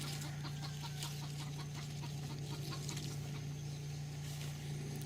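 Chickens cluck in a rhythmic run of short repeated calls under an orchard in Kona, Hawaii, with a constant low mechanical hum beneath and no talking.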